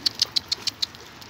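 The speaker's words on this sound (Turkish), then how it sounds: "Kuşlar aç Allah'tan." Six quick, evenly spaced high chirps from a small bird, fairly faint against a quiet background.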